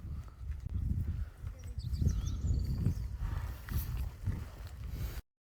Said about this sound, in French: Regardez un cheval en plein milieu.